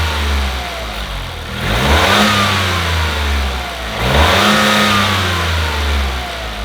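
A Toyota GR Corolla engine revs up twice, each time rising into a loud roar of intake and exhaust before dropping back to a rumbling idle.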